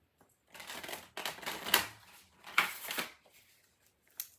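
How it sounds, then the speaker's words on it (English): A deck of cards is riffled and shuffled in a few soft, papery bursts, quiet and close with brief pauses between them. "This deck is very hard to shuffle, so I'm just going to shuffle it once"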